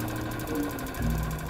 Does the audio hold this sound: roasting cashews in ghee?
no